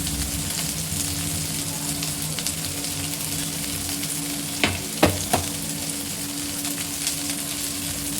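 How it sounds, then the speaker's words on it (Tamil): Okra sautéing in a little oil, a steady, fairly quiet sizzle and crackle running throughout, with a few sharper clicks of stirring near the middle. "இந்த வெண்டைக்காய் வந்து நல்லா வதங்கணும்"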